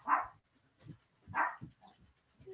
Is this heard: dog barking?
yes